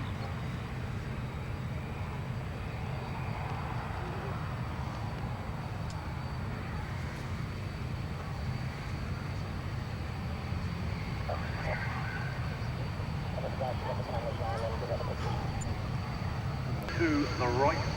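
An aircraft rolls out on its landing run at an air show, a steady, fairly distant low rumble that swells slightly near the end.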